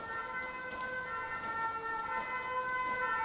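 A fire engine siren wails in a steady, sustained tone that holds its pitch throughout, fairly loud with a faint hum of traffic beneath and no voices.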